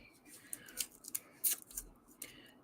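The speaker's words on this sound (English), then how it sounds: "I want to get this even, so I'm going to cut it across there." Scissors snip across a piece of material at close range, several quiet, irregular crisp cuts scattered over a couple of seconds with low background noise.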